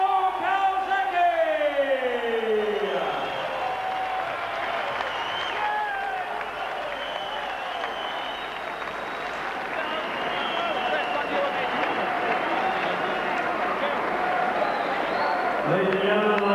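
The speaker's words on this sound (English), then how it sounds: "Ladies and gentlemen, I'm sure you want to give a big round of applause." A boxing arena crowd applauding and cheering after the referee stops the Joe Calzaghe vs Branco Sobot fight, a broad sustained roar of clapping and shouts, with an announcer's amplified voice over it at the start.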